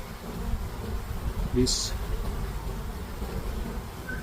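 Honey bees buzz steadily around an opened hive during a spring inspection, a close, constant drone, with a brief higher click and a short spoken word partway through.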